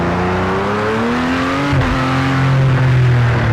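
LMP prototype race car in a racing video game, a loud, close engine drone that holds steady, dips briefly and then climbs in pitch as it accelerates along the track.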